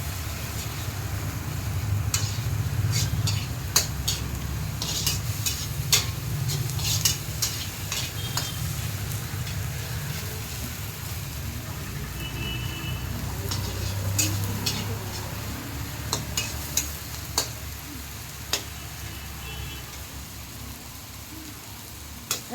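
Ginger, garlic and chili fry with a little water in a pan, giving a soft, continuous sizzle with scattered sharp taps and scrapes from stirring, at moderate closeness throughout.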